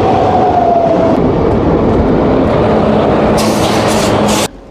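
The 22387 Black Diamond Express passenger train rolls along with a loud, continuous rumble and wheel noise, a faint whine at first and bursts of rushing hiss late on before the sound cuts off abruptly.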